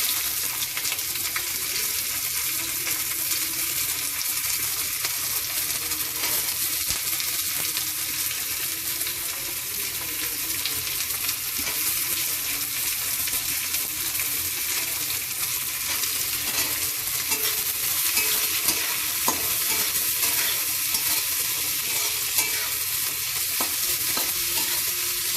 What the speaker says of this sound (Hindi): प्याज टिके कलर चेंज होला पर्यंत भाजीबी